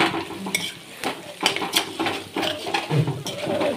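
Broiler chicken meat being fried and stirred in a pan, with repeated scraping and clinking of a utensil against the pan in an uneven rhythm, close and moderately loud, with light sizzling underneath.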